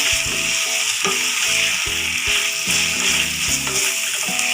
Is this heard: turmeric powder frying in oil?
yes